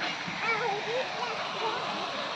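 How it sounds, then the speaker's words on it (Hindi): A waterfall in a children's park gives a steady broadband rush of splashing water, with a person talking over it. "ये बहुत बढ़िया वाटरफॉल है।"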